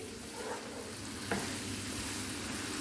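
Onion and potato tadka frying in hot oil in a pan for a Punjabi aloo baingan dish: a steady, close sizzle throughout, with one brief stir or clink partway through.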